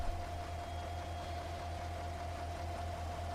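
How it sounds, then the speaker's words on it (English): Large tractor engine idling in Farming Simulator 22, a steady low mechanical hum with a constant droning tone, even and unbroken throughout, no talk. "What a tractor, I love it."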